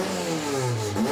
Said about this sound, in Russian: А так работает двигатель спорт-прототипа «Легендс».